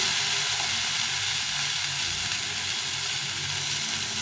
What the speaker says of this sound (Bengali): এখন আমি দিয়ে দেবো এই টমেটোটা টমেটো দিয়ে আর একটু ভেজে নেব